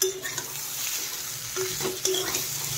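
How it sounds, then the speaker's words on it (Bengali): A chickpea dish sizzles in a pan over a high gas flame with a steady fry hiss, punctuated by a few scraping stirs and light utensil clinks. "চলো এটাকে আবার আর একটু ভেজে নিই"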